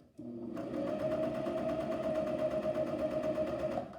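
A Janome 1000CPX cover stitch sewing machine runs a seam at a steady, fast, even needle rhythm. It starts after a brief pause, hums loudly and continuously for about three and a half seconds, then stops.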